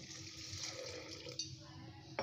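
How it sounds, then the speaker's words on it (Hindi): Steady running water splashing and pouring at low level into a cooking pot holding lauki, with a couple of faint clinks of metal near the end. "इसमें पानी डाल देते हैं कुछ उबलने के लिए"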